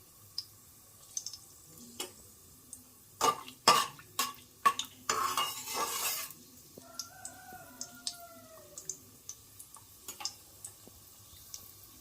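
Cashews are stirred in a pan while making country chicken biryani in a cooker, with sporadic metal spoon clicks and scrapes against the pan, a louder burst of rattling and scraping in the middle, then quieter taps.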